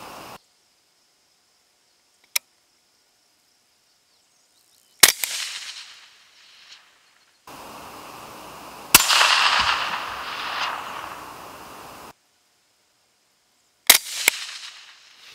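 Outdoors on a rifle range, three sharp rifle shots crack out several seconds apart, each followed by a ringing echo tail, with a faint click earlier and a quiet insect hum between them.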